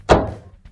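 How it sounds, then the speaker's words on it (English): A Maytag dryer door swings shut with a single dull thunk, close and fairly loud, decaying quickly, followed by a faint small knock. "and we'll close the door"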